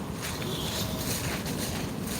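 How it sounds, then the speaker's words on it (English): Strong wind roaring and buffeting the microphone in a rough, continuous rush. "it's proper windy"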